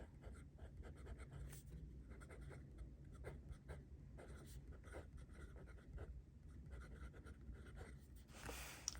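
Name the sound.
Platinum 3776 Century fountain pen broad nib writing on paper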